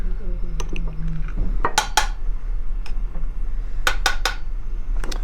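A metal pan handled on a stovetop at the start of cooking for oxtail ragu with gnocchi, with a few sharp clanks and clinks close by, two clusters of bright knocks.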